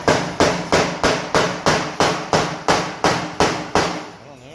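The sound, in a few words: hammering a hose barb into an LS water pump neck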